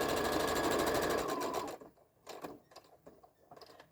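A sewing machine stitching a pocket onto a small fabric tote bag, with a loud, fast, rattling run of needle strokes for over a second before it stops and gives way to scattered quieter mechanical clicks.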